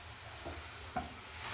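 Carrot halwa being stirred with sugar, cardamom powder, cashew and almond pieces, producing a faint, soft scraping and light sizzle with a couple of small spoon taps.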